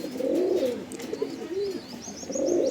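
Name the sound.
Andhra pigeons cooing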